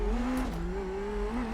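An Indy NXT race car at Long Beach in iRacing holds a steady engine drone that dips and climbs slightly as the revs shift, with a brief shift blip, moderately loud and alone.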